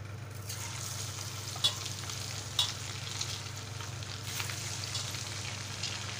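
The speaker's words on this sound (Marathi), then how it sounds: "वडे घातले तेलात, ते आता आपण फ्राय करू देऊया।" Rice vadas deep frying in hot oil in a kadhai give a steady, close sizzle with soft bubbling, broken by two brief sharper crackles early on, with no talk.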